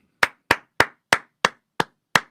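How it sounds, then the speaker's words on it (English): A single person claps slowly and deliberately in sarcastic applause: seven sharp, evenly spaced claps about a third of a second apart, close and crisp against near silence, with no talking. "There's a point where you have to just stand back and applaud."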